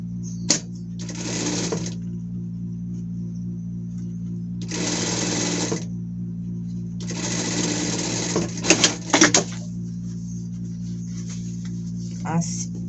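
A sewing machine topstitches a folded-over seam on a pet skirt, running in three separate bursts of steady rapid stitching with quiet gaps and a few small clicks between, over a constant low electrical hum.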